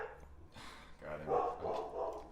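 A dog barks a few times in the background, fairly faint, while a person talks.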